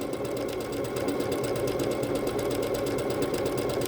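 A Bernette B-77 sewing machine runs steadily through a side-to-side stitch, its rapid, even mechanical hum and needle chatter continuing without pause and close up.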